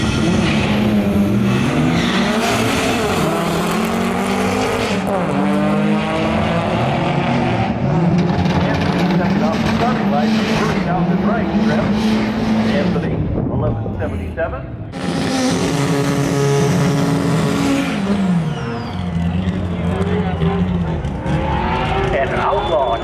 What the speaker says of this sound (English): Garrett O'Connell out of Flagstaff, 1992 Honda Accord.